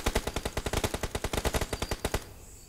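Rapid automatic gunfire from the battle royale game PUBG: about twenty sharp, evenly spaced shots in a continuous loud burst that stops abruptly near the end, with no voices.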